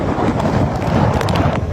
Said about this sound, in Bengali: তাহলে আপনারা দেখতে পাচ্ছেন প্রচন্ড বাতাস এবং